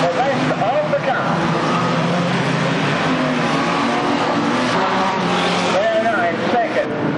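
Race cars roar around a track in a continuous loud engine drone, with revs rising and falling as cars pass, while an excited announcer commentates throughout.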